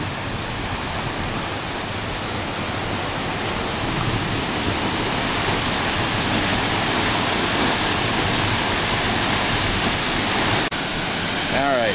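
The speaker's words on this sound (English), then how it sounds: "And back to the waterfall." Havasu Falls waterfall pouring steadily, a loud, unbroken broadband roar from close range that holds at an even level throughout, with no voices over it.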